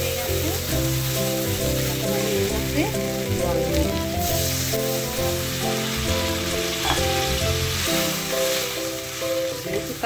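Curry gravy bubbles in a pan with cabbage paste, ginger and tomato, a steady sizzling hiss running throughout with an occasional stir, under continuous background music.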